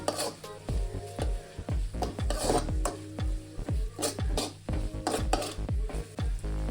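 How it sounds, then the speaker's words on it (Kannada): Onion, curry leaves, crushed garlic and ginger fry in a pan for egg rice, with a light sizzle under repeated rhythmic metal scrapes and clinks of a spoon stirring against the pan. "ಈರುಳ್ಳಿ ಸಾಫ್ಟ್ ಆಗೋವರೆಗೂ ಸ್ವಲ್ಪ ಫ್ರೈ ಮಾಡ್ಕೊಳ್ಳಿ"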